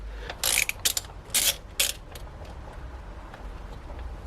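Short bursts of ratcheting clicks come from a wrench tightening the chain adjusters on a Honda MSX 125 motorcycle, close and crisp, separated by brief pauses over a quiet background.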